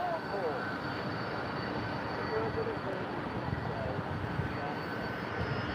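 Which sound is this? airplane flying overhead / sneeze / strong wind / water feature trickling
airplane flying overhead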